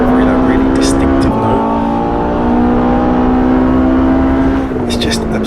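Ferrari 488 GTB engine in the Assetto Corsa driving game holds a steady, loud drone on the LA canyon roads, its pitch stepping and climbing with gear changes, with brief speech over it.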